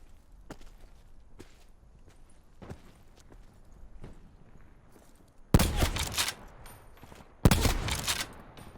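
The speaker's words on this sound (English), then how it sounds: "Multiple shots on him." Gunfire in Call of Duty Black Ops 4 Blackout, quiet footstep-like taps followed by two loud bursts of rapid automatic shots, each lasting about a second.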